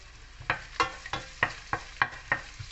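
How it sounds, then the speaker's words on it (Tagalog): Miso sautéing in avocado oil as salmon belly sinigang gets started, heard as about eight evenly spaced scraping stir strokes over a faint sizzle, close and fairly quiet. "igisa lang muna natin konti yung ating meso"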